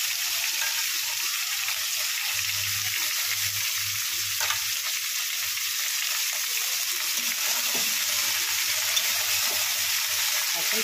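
Mixed vegetables stir-fry in a pan for a Bengali dish, a steady dense sizzle heard up close, with a low hum rising and fading underneath at times.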